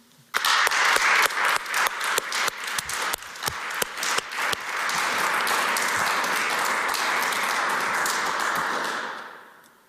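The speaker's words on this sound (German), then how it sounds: "bitte Sie nun um einen Applaus für unsere Musikerinnen und Musiker" An audience applauds musicians at the ETH-Tag 2020 ceremony, starting with a few loud, separate claps that quickly swell into a full, even round of clapping before fading out near the end.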